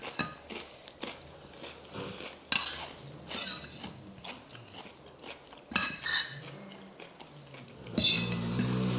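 Close crunchy bites and chewing of crispy pork with spicy papaya salad, broken by clinks of cutlery and dishes, with irregular loud crunches spread across the meal.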